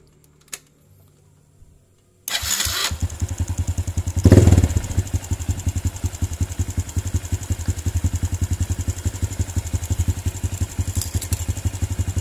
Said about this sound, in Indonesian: Kita coba hidupkan dulu untuk motornya ya para brother semua.